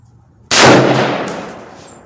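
A single loud crack from a Smith & Wesson M&P15 rifle fired at a 50-yard target, sharp onset after a brief quiet moment, then a long decaying ring that fades over a second and a half.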